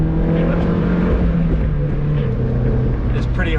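A Mazda MX-5 sports car engine droning and revving as the driver heel-toe shifts through corners, loud and continuous with shifting pitch, a voice talking over it throughout.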